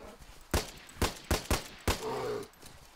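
Desert Eagle pistol shots in the DayZ video game: five loud, sharp reports fired in quick succession, then a brief lower rumble.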